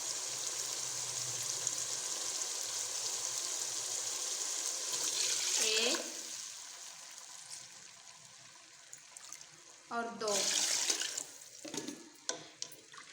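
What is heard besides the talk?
water poured into pot of spiced chickpea pulao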